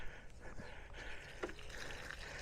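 Water pours into a container holding a struggling fig tree, a soft gurgling trickle and splash, close by and fairly quiet.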